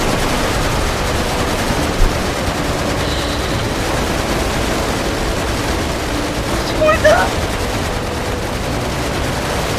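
Gunfire burst from a video game cutscene, rising briefly near the end over a dense, steady layer of background noise and music, with no distinct isolated shots.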